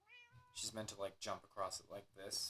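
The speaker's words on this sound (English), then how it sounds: "You can hear her meowing downstairs." A brief high meow from a cat downstairs at the start, then a person speaks close by for the rest of the clip.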